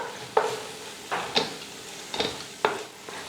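Biryani masala frying in oil in a pan, with faint sizzling under four or five sharp scrapes and stirs of a spoon against the pan, spaced roughly evenly apart.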